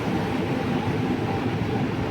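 Kerala Express train arriving at Kollam Junction station, heard as a steady, loud rumble of rolling wheels and carriages with no voices.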